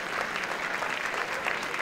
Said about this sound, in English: Please give him a strong round of applause.